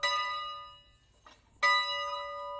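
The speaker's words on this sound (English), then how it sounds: "the bell rings again, but in Bill's hands this time" A small-town church bell in a hurricane-recovering community rings out twice, each clear metallic strike decaying into a long humming tail with a short pause between, nearby and alone.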